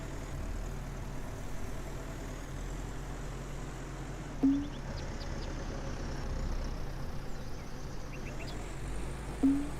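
A tractor engine in the farming game Farmer's Dynasty runs at a steady low idle throughout, with two short bright clanks standing out briefly above the drone.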